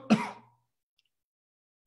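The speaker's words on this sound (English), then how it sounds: "That was just a dry cough." A single short, dry cough or throat-clearing close by, followed by silence and a faint click at the end.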